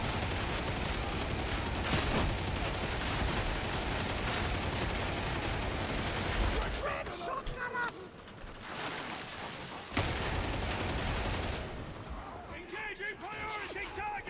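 Gunfire in Warhammer 40,000: Darktide rattles out in dense, rapid bursts, with a few heavier single shots later, while voices talk over and between the shooting.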